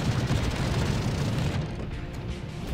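Dense anti-aircraft artillery fire from a battleship in World of Warships, a continuous loud rumbling barrage of overlapping booms that eases slightly toward the end.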